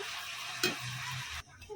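Hot oil sizzling in a kadai before whole spices go in, a steady broadband hiss with a brief clink near the middle, then a sudden drop to quieter crackle.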